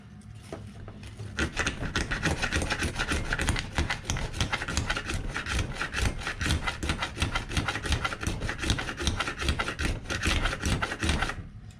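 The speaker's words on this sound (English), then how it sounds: "Scrape this across. Shows you the high spots." A tool scrapes steadily across the skid plate of a Redcat Gen 8 Scout RC car, making a dense, continuous rasping with quick repeated strokes. It is close and fairly loud, with no talk.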